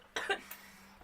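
A single short cough, close and fairly quiet, standing alone against a low background hum.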